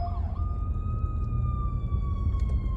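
An ambulance siren passes through traffic, a loud wailing tone that dips at the start and then holds a long, slowly falling note over steady road rumble.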